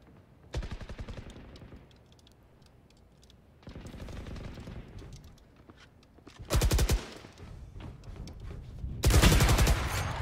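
Video game gunfire comes in several long bursts of rapid automatic fire, loud and close, separated by quieter stretches of game ambience.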